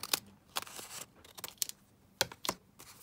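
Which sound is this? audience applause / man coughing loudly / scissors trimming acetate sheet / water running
scissors trimming acetate sheet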